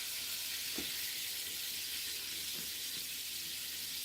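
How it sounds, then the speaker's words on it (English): Food fries in a pan on a home stove, giving a steady broadband sizzle that runs throughout at moderate level, with a few faint clinks and stirring knocks and no talking. "Probably can hear it frying in the background."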